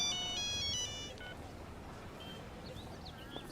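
A phone ringtone chimes in a short electronic melody for about a second, then cuts off, leaving quiet room noise.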